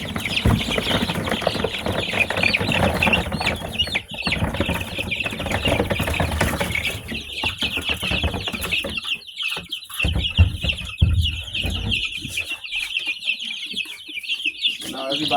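Layer and broiler chicks together in a brooder on fresh bedding give off a steady stream of high peeping and clucking, with occasional wing flaps, close by and continuous.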